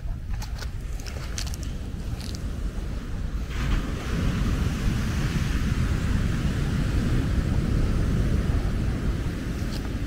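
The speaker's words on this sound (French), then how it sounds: "Ça c'est l'eau, ce que l'eau fait, donc les vagues viennent jusqu'ici." Sea waves washing up on the shore at Port-Bouët on the Abidjan coast: a steady, loud roar of surf that builds after a few seconds and keeps going under wind buffeting the microphone, with no voices.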